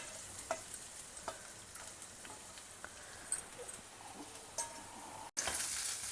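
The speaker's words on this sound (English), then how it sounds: "Saute it till the onions become translucent" Sliced onions sauté in a tablespoon of oil in a pan, a soft steady sizzle under light stirring, with a few small clicks and scrapes.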